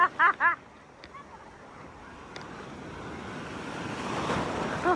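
Ocean surf breaks on a beach in a broad, rushing wash with wind buffeting the microphone, building louder toward the end after a few brief vocal sounds at the start.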